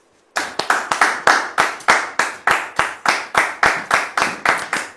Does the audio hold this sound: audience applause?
yes